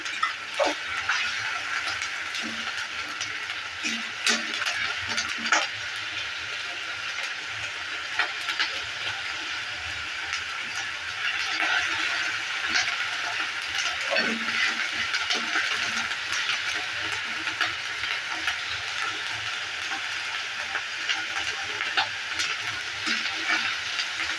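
Something frying in a pan over low heat while cooking a curd soybean dish, a continuous soft sizzle with occasional small taps and clinks throughout.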